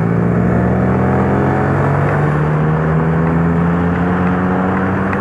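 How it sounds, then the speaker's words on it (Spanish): Honda XRE motorcycle on the move, its exhaust giving a loud, steady close-up drone that climbs gently in pitch while riding, with wind rush layered over the engine note throughout. "Me gusta el caño de escape como suena"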